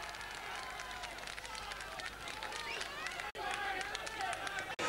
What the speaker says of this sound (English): you can hear there plenty of cheering from the Blarney people that time